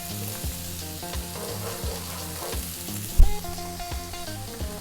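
Onion and garlic frying in oil that carries a fish flavour, a steady close sizzle with rhythmic stirring or tapping thumps and a sharp clack partway through.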